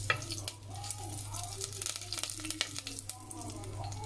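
Garlic and curry leaves sizzle in a pan while being stirred, a faint crackling fry with scattered sharp pops and scraping, close by over a low steady hum.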